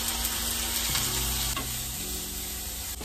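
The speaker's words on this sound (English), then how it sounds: "I'm adding the garlic to the onions now." Onions and garlic frying in a pot for vegan broccoli cheddar soup, a loud, steady sizzle close up with stirring scrapes and a few soft knocks of the utensil, under a constant high electrical whine.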